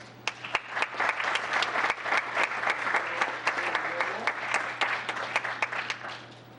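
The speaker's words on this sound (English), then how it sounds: "please join me in a nice big round of applause" A town council meeting audience gives a hearty round of applause for a 2013 Spirit of Giving Award, sustained crisp clapping with distinct nearby claps over a low electrical hum, tapering at the end.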